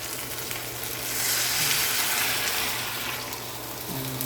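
Coconut milk poured over fried tuna in a pan sets off a soft, steady sizzle and bubbling that swells in the middle, heard close with no talking.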